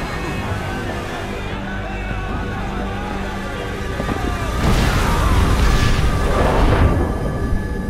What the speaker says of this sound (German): Das Magazin! Es explodiert!